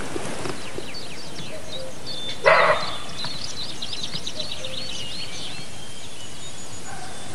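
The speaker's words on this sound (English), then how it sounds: "Sounds like a dog, but that's actually a deer. Barking his off." A deer in the wild gives a single short, dog-like bark partway through, standing out loud and sharp against a steady outdoor background hiss.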